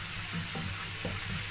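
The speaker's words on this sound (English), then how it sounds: "I'm going to stir that for" A croaker fish stew seasoned with maggi is stirred in a pot. Close, continuous sizzling and bubbling fills the brief moment, with soft scraping stir strokes heard under it.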